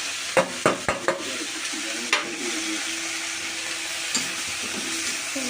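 Grated carrot and eggs frying in a pan, a steady close sizzle with a few sharp clinks and scrapes of a utensil stirring near the start.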